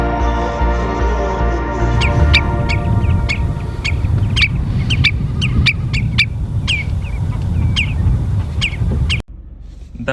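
A shorebird calls repeatedly in a wetland nature reserve in Iceland, sharp chirps recurring at irregular intervals over steady low wind rumble outdoors, fairly close and clear.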